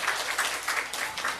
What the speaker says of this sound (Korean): 그렇게 하실 하나님께 박수 올려드립니다